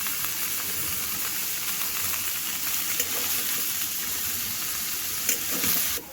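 Potatoes fry in a pan with a loud, constant oily sizzle and crackle, with occasional stirring clinks near the end and no talking.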